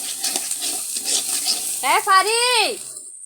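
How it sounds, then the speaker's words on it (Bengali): Cumin seeds and ground spices stirred in a hot pan with a soft sizzle and scraping, followed near the end by a brief squeaky utensil scrape against the pan. "আমি কটা জিরা ছেড়ে দিয়ে তারপরে সব মশলাই দিয়ে দিচ্ছি, দিয়ে এখন নাড়তেছি"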